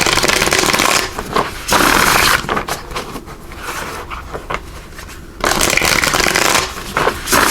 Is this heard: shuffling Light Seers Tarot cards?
yes